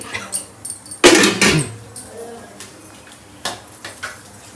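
Bowls taken out in a home kitchen with spoons set into them, giving scattered clinks and clatters of metal and dishware, one louder burst of rattling near the start, then lighter taps.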